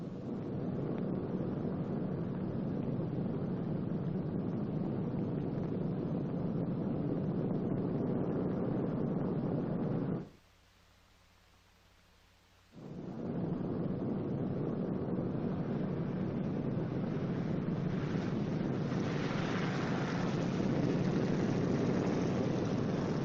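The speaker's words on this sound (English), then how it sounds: "When you touch the ground, the plane should be slightly tail low and going between 95 and 100 miles per hour." A four-engine WWII B-29 bomber coming in to land; a continuous loud propeller engine drone with wind roar, cutting out briefly for a couple of seconds before resuming steadily.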